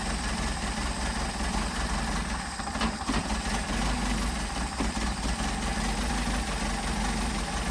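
An engine fitted with Solex 44PHH carburetors idles at about 600 rpm during carburetor testing, a steady close low rumble with slight uneven pulsing throughout.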